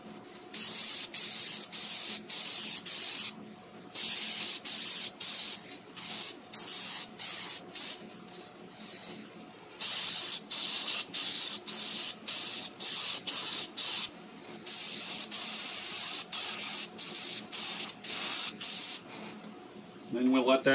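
Spray gun laying a light seal coat finish on a wooden marble game inlay, many short hissing bursts in a steady stop-start rhythm, close and fairly loud.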